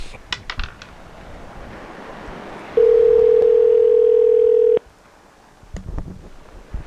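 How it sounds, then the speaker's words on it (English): A telephone call tone while waiting for someone to pick up: one steady unbroken tone of about two seconds, loud and close, set between quieter clicks and faint rustling. "Bird, gonna pick up the phone? Give him time to pick up the phone, Carl."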